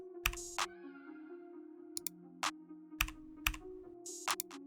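Computer keyboard keys clacking in short bursts and single strokes, fairly close, with a low steady hum underneath and no talking.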